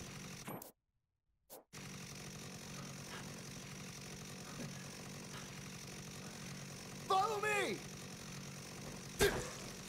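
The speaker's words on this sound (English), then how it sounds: "I got a chainsaw." In the PS5 video game Dead Rising Deluxe Remaster, a chainsaw drones steadily with a gritty buzz, cut off by a brief silence near the start, with a few short voice outbursts later on.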